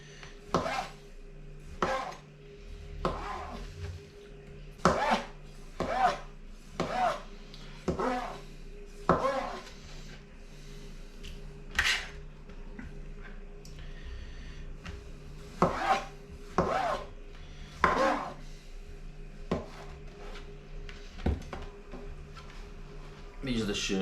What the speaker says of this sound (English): Chop these a bit smaller actually.